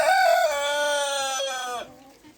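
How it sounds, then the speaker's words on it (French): A Spanish Cou Nu hen in a backyard poultry yard gives one long, drawn-out, fairly loud crowing call close by that tapers off near the end, with no talking. "Une poule espagnole Cougnou."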